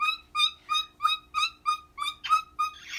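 A voice imitates a bird with a series of about eight rhythmic, whistle-like chirps, evenly spaced and fairly close.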